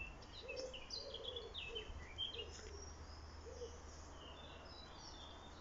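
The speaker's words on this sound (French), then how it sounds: "On entend une tourterelle." Turtle dove cooing in the Haringzelles woods on the Opal Coast near Audinghen, soft low coos repeating several times at a distance, mixed with faint higher bird chirps over quiet forest hiss.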